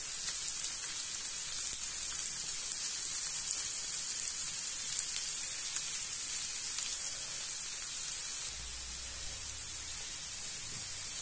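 Red pepper frying in a pan with green beans, a steady, even sizzle like soft static holding for several seconds, close and moderately loud, with a slight low rumble joining near the end and no voices.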